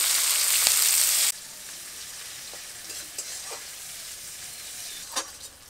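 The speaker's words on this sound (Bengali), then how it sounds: "পেঁয়াজটা একদম বাদামি হয়ে ভাজা হয়ে গেছে" Chopped onion frying until brown in a pan for a magur fish and raw mango recipe: a loud broadband sizzle for the first second or so, then a quieter steady fry with a few soft stirring clinks.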